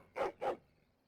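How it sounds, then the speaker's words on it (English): A hound in the video game Dragon Age gives two sharp, angry barks in quick succession, close and loud, followed by quiet. "Angry barking."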